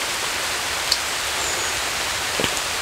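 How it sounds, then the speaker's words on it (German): Light rain beginning to fall outdoors ahead of a thunderstorm, a steady soft hiss of drops throughout with a couple of brief sharper taps, no voices. "So, jetzt fängt es bereits an zum Regen"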